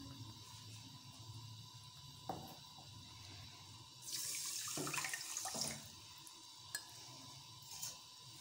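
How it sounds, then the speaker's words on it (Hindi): Water is poured from a cup onto sugar in a pan to make gulab jamun syrup, a short splashing pour in a quiet kitchen, with small clinks before and after. "इसके अंदर डालूँगी 2 कप पानी के"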